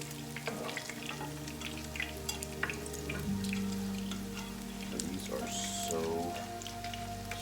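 Potato latkes fry in a pan with a steady, close sizzle and soft crackle, with occasional clinks of a utensil as the cakes are turned.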